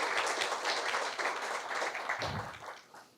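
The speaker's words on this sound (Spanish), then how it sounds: "Un fuerte aplauso, por favor." Audience applause at a Dominican social security dialogue session, a dense wash of clapping that holds steady for about three seconds before tapering off toward the end.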